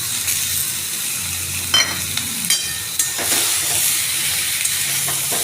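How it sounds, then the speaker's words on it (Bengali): Ground spice paste of ginger, pepper, radhuni, fennel and cashew hits a hot pan, giving a continuous loud sizzle and hiss with a few clinks of the spoon. "এই বাটাটা আমি এর মধ্যে দিয়ে দেব।"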